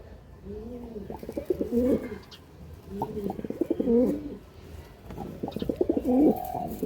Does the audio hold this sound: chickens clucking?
no